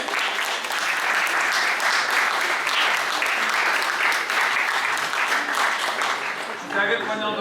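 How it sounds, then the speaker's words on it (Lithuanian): Audience at a community gathering breaking into sustained applause, a dense even clatter of many hands that carries on for several seconds before thinning at the end as voices begin. "Ir plojimai."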